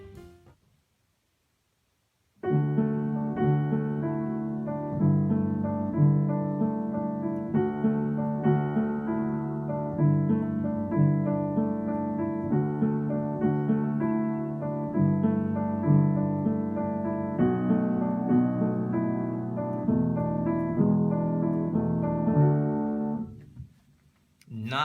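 Piano playing the intro of a song, steady rhythmic chords repeating over four chord changes for about twenty seconds, clear and close, with silence before and after.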